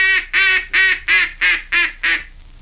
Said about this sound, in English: the key tone of the various calls which make up the wild duck language, and sounds like this when applied to the duck call